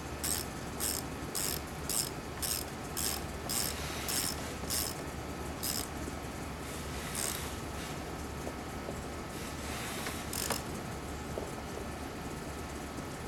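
A ratchet tightening the mounting nuts of a car side view mirror, giving a quick run of about a dozen evenly spaced clicking strokes up close, then a few slower separate clicks.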